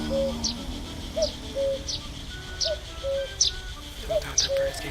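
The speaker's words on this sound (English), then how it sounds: "A cuckoo." Cuckoo calling in the video game The Night of the Rabbit, a set of repeated soft two-note coos and chirps at steady intervals over a quiet ambient background, with no talking.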